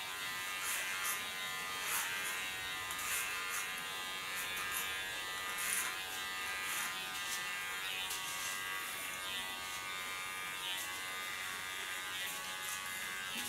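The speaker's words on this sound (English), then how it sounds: "clipper." An electric hair clipper runs continuously on a nape, buzzing steadily at close range, with small rhythmic changes in tone as it moves over the neckline.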